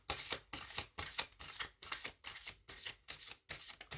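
Oracle cards shuffled by hand in a quick, even rhythm of crisp riffling bursts, about eight strokes, close and fairly quiet with no talking.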